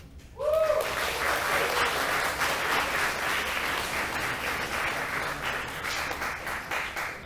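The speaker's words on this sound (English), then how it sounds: "So I want to give a round of applause for Full Sail." Audience applause at a Global Game Jam showcase honoring Full Sail, bursting in after a brief voice and holding steady as dense, sustained clapping from a large crowd.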